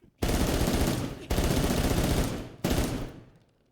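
Three long bursts of rapid automatic gunfire from a zombie shooter video game, each loud and dense, separated by brief gaps, with the last burst trailing off.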